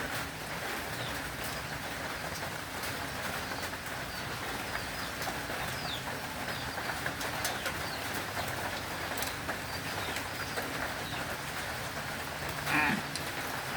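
Steady rain falls outside, a constant broadband hiss that runs the whole time with no break. Birds coo and call faintly over the top, and one short louder burst comes near the end.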